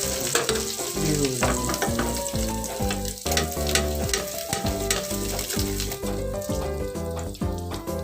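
Pork chops fry in butter in a home kitchen pan, a loud, steady close-up sizzle that crackles continuously throughout, with no voices.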